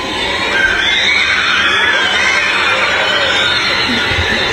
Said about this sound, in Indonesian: Kok pada teriak-teriak?